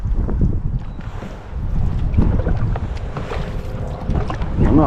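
Canoe paddling on a calm river in the Norfolk Broads, with soft water swishes and dips close by under steady wind noise across the microphone.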